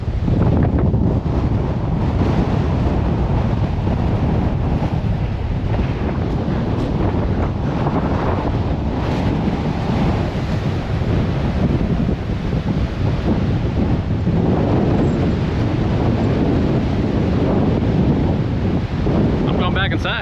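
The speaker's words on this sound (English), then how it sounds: "It's windy out there." Strong wind blasting a microphone beside Interstate 10 in the Arizona desert, a loud continuous roar with heavy low buffeting that surges and eases across the whole stretch, with no talk over it.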